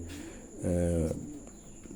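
Pet pigeons coo close by: one clear, throaty, warbling coo swells in the middle of the moment against faint background hiss.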